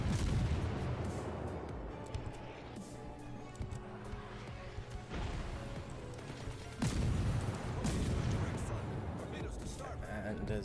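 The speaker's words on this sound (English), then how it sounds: "So we'll fire off our fantastic guns." Warship main guns booming in World of Warships naval combat, heavy low blasts rolling under a dense layer of battle noise, with a big salvo near the middle.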